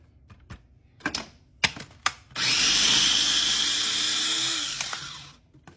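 A knife minces garlic on a cutting board: a few separate sharp chops come first, then a fast, continuous burst of rapid chopping lasts about three seconds, loud and close, with no talking.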